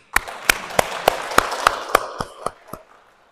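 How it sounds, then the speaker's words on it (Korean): A church congregation at a Catholic parish gives a short round of applause, about a dozen distinct, slightly scattered claps that start sharply and thin out over a few seconds, close and clear with no talking. "박수."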